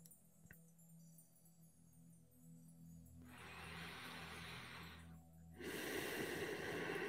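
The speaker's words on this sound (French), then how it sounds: "Prenez 3 grandes respirations conscientes avec cette intention de" Deep, slow breaths during a meditation: a quiet inhale followed by two louder, airy exhalations or inhalations, close and breathy against a faint background tone.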